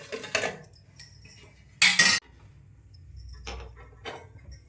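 A metal lid set onto an idiyappam steamer pot on the stove, a sharp clanking clatter of about half a second standing out between softer handling knocks and faint rattles.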